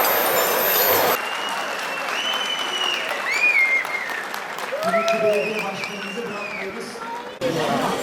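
Applause from a crowd at a TOGG car convoy event in Bağcılar, Istanbul, a continuous patter of clapping under loud, echoing amplified speech.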